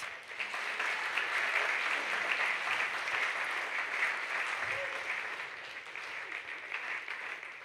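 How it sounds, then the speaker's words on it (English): A church congregation at a revival service applauds, a dense, sustained wash of many hands clapping that carries on steadily throughout, with faint voices mixed in. "Go ahead and give God a hand of applause."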